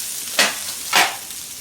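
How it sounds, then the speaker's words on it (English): Chicken liver sizzles in a hot frying pan, two loud bursts of frying as pieces drop in and get stirred, each swelling and fading over a steady low hiss, close and with no talk. "chicken liver back in the pan,"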